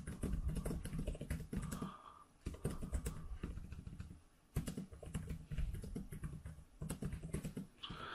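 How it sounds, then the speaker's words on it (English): Rapid, uneven clatter of typing on a Zagg Slim Book Go backlit keyboard for the 12.9-inch iPad Pro, close and crisp, in bursts with a few short pauses. "Let's go and do some typing now."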